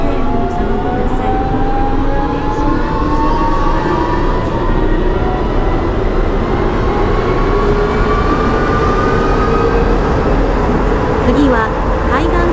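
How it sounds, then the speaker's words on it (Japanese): A train rumbles through a station platform in the railway game Train Crew, a loud sustained roar with rising tones. A recorded platform announcement plays over it. "まもなく2番線を電車が通過します。"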